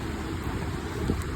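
Strong wind blows by the sea, a steady low buffeting rush with microphone rumble filling the whole short moment.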